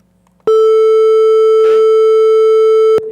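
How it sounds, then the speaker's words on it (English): Pure constant-frequency sine wave tone with no frequency modulation, switching on abruptly and holding perfectly steady and loud for about two and a half seconds, with a brief voice murmur partway through before it cuts off. "this is sound wave without frequency modulation, a constant frequency."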